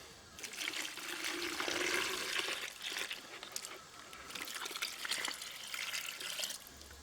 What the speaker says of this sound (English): Then we're going to pour a half a gallon of water over it.